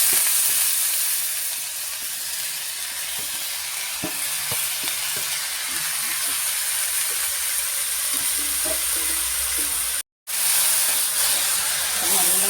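Ash gourd frying in coconut oil in a pan, a steady close sizzle with soft stirring scrapes and small crackles throughout, broken by a brief silent gap near the end.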